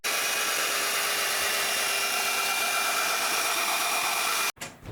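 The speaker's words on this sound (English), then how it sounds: "I screw off the mold from the strong back, so I can do the trimming on the outside." A power tool unscrews a boat hull mold from its strongback, a steady close whirring drone running nearly five seconds before cutting off abruptly near the end.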